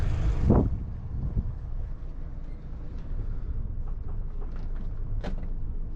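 An AMT 190 BRf boat from 2020 has its outboard engine start with a short rising burst, then settle into a steady low idle rumble outdoors, with some wind buffeting on the microphone.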